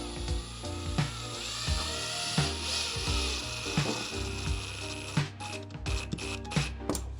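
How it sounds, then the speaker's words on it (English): A power drill driving screws through a drywall patch into backer boards, a continuous close whirring and grinding with short pauses and a rhythm of bursts near the end, no speech. "you would just screw it on to those backer boards"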